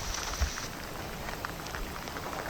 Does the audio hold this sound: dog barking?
no